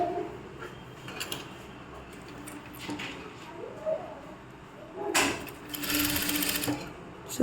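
A sewing machine stitches a churidar in short bursts with pauses between them, then runs in a louder, longer stretch near the end, with a voice faintly present.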